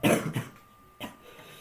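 A loud cough from a player, one strong close burst followed by a second shorter cough about a second later, with no talk over it.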